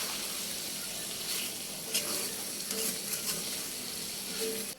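Tomato and chopped onion sizzle steadily in a pan for a chicken curry, with occasional scraping stir strokes over a constant broadband frying hiss.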